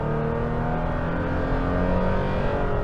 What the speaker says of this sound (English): I'm just gonna get into the gas hard here